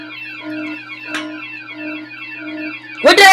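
An electronic alarm in a free-roaming driving video game repeats a warbling, sweeping tone in a steady loop, loud and close, ending with a sudden burst of noise.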